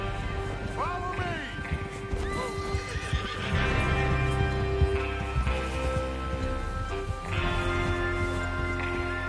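Horses whinny and neigh several times over steady clopping hooves and rumbling background noise, with other game sounds mixed in, in the video game Red Dead.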